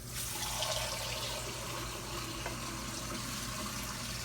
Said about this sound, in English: now I'm gonna add a little bit more water to this